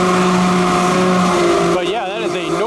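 A Falling Star amusement park flat ride at Indiana Beach runs loudly, a steady mechanical drone with whining tonal harmonics that wobble and shift in pitch near the end, close and continuous.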